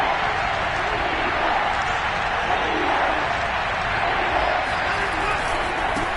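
Roaring Kansas City stadium crowd at a football game, a steady dense wash of cheering and noise holding loud throughout, with faint commentary-like voices underneath.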